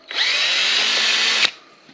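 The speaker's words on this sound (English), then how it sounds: "he's just gonna start drilling her, just so we can tap it" A power drill bores into an engine part ahead of tapping threads, one close, loud burst of whining motor and cutting noise lasting about a second and a half before stopping abruptly.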